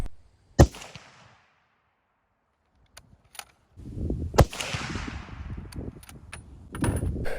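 Several sharp, loud 30-06 rifle shots firing Super-X 165 grain Power Point ammunition crack outdoors at intervals. One stands alone early and two more follow, set among quiet gaps and a few clicks and handling noises.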